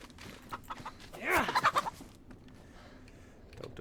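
A hen clucks in the winter Chernarus map of the survival game DayZ, a short burst of rapid clucks and squawks up close with a faint game ambience around it.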